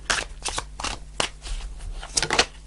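Tarot cards being shuffled by hand during a reading, a run of quick papery riffles and flicks in uneven bursts, close and fairly soft with no talking.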